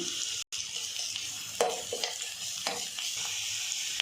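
Green chillies and ginger-garlic paste frying in a pan for a green pea dish, a continuous close sizzle with occasional spoon scrapes and one brief dropout.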